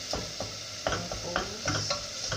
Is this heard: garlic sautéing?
yes